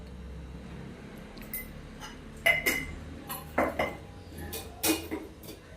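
Spoon clinks and scrapes against a bowl as ground ginger, garlic, coriander and chilli paste is mixed with chilli powder, turmeric and salt; a few sharp, close metallic knocks stand out over a quiet kitchen background.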